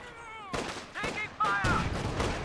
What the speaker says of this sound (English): 5 shots from AT guns and they're dead.